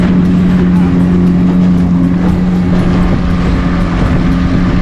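Outboard motor on a fishing boat on Menindee Lakes in outback New South Wales, a loud steady droning hum with constant wind and water noise, no talking.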